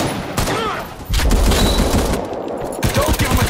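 Machine-gun suppressive fire rattles through a World War II video game in loud, close bursts, a dense rapid stream after a brief lull, with distant shots layered behind.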